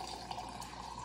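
Water trickles steadily into a drinking glass or container, a soft continuous pour with light splashing at moderate distance and no voices.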